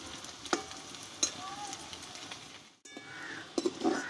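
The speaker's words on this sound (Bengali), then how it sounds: "ভালোভাবে আমি উল্টিয়ে আমি ভালোভাবে এগুলো ভেজে নেব।" Puffed-rice langcha sweets fry in hot oil in a pan with a steady close sizzle, broken by a few clinks and stirring scrapes and one brief dropout before the bubbling resumes.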